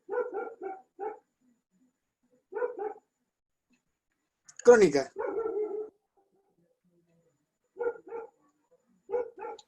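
A dog barks in short bursts of two or three, then again after a pause, with a brief stretch of a person speaking in the middle.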